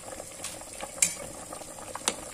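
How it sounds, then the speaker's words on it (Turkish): Bone broth from marrow bones bubbling in a pot, a faint steady simmer with a few brief clinks and stirring sounds, no voices. "yemeğimiz kaynamaya başladı"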